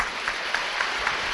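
Audience applause fills a lecture hall at a talk in Nagoya, a brief, dense stretch of many hands clapping at once.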